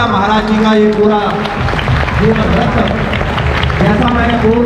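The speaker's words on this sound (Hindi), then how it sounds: "एक बार जोरदार तालियां" Loud applause for Maharaj ji at a birthday celebration in a hall in Haridwar. A crowd claps steadily throughout, mixed with voices and a loudspeaker.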